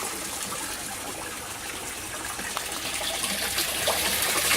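Water drains out of an aquaponics grow bed in a steady gushing, trickling rush that grows slightly louder, fairly faint and continuous without voices.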